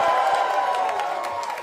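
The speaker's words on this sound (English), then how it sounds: "let's hear a round of applause for New York City DSA" A political victory-night crowd applauds and cheers for New York City DSA, a dense burst of clapping with whoops and shouts rising loud and close, fading slightly toward the end.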